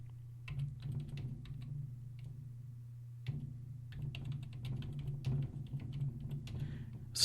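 Typing on a computer keyboard, close and clear, with rapid irregular clicks in bursts and a brief pause partway through, over a steady low hum.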